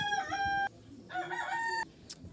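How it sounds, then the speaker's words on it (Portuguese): Backyard chickens at a house call out in two drawn-out, tonal crowing bursts with a short gap between them, over a low background hum and no talking. "Essas galinhas da minha casa estragam filho"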